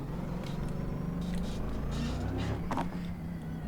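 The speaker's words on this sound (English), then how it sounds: "This is literally my first popping car." A car in the racing game BeamNG revs with a rough, steady engine drone, a burst of crackling exhaust pops near the end, loud and continuous without talk.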